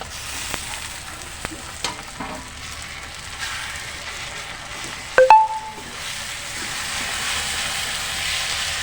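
Spices with ginger paste and onion paste frying in a pan for a Bengali chicken kosha, a soft steady sizzle running throughout with a few clinks of a spoon stirring the mixture.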